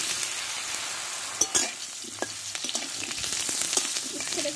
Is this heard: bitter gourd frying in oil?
yes